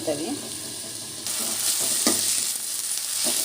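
Amaranth leaves frying in a pan, a bright, continuous sizzle with short bursts as the greens are stirred, close and fairly loud with no talk.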